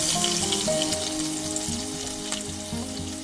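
Tempering spices with chillies sizzling in hot oil for a Nepali taro leaf curry, a steady bright hiss close up with a faint tonal hum underneath and a brief stir near the end.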